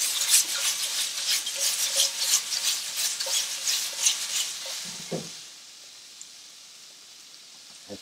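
Raw shrimp with a pinch of kosher salt rattle and scrape as they are shaken in a container, giving a steady granular rustle for about five seconds, then a soft thump and near silence.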